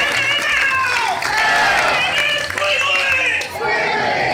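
Walmart employees chant the company cheer together, loud group shouting with claps and cheering voices rising and falling.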